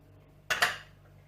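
A utensil clinks twice against a bowl while egg batter for fish tempura is mixed, two quick bright taps close by in an otherwise quiet kitchen.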